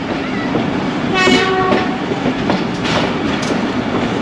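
Ravi Express passenger train running through a station on a classic branch line, a loud close roar of wheels and cars with a drawn-out horn blast early on, no voices.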